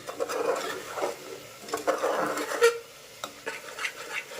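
Masala and village chicken being stirred and sautéed in a pan over a full flame, with irregular scraping and rubbing strokes of a spoon, close up and moderately loud, with no talking.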